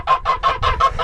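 A rapid run of six honking calls from geese, evenly spaced and fairly loud, heard close by with no talking.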